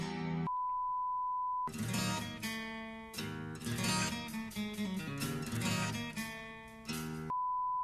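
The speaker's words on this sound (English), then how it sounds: "every time I hear that beep sound" A steady electronic beep tone, censoring a word, sounds alone at the start, cuts off as a loud song with singing and band plays, then returns briefly at the end.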